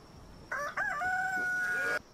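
A single drawn-out rooster crow from a chicken in the video game Palworld rings out clearly for about a second and a half, loud and near against a quiet background.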